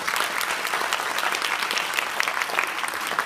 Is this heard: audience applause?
yes